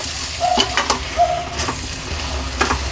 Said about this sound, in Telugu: గరం మసాలా అన్నీ వేసినాం కదండి మనము ఇప్పుడు వీటిని కలుపుకోవాలి మంచిగా ఇలా చూడండి